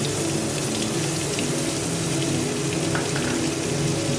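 Onion paste sizzling in hot oil for a quick chicken curry, a steady, dense frying hiss with faint bubbling, close and continuous, no voices.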